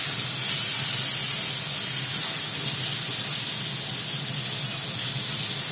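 Drumstick vegetables fry in a pan for a Bengali hilsa fish head dish, giving a steady bright hiss with one brief stirring clink near the middle.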